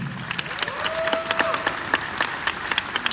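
Audience applause at the Mr. Olympia 2023 press conference for the IFBB Vice President and Head Judge, with distinct individual claps standing out in a lively rhythm over a crowd murmur.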